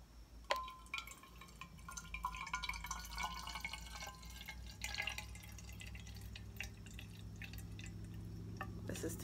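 A drink being poured at home: a soft trickle of liquid into a glass with small drips and clinks, quiet and close, with faint background noise.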